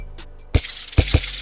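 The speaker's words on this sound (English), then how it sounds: "Then I added this kind of eraser effect." Eraser-style sound effect from a drum kit used in a dark trap beat: a soft airy swish, then three sharp noisy bursts with heavy low thumps, loud and close, with no talking.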